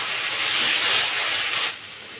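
A little water added to spice paste of turmeric, chili and coriander powders frying for a fish curry, a loud steady hiss of sizzling steam that drops off abruptly near the end.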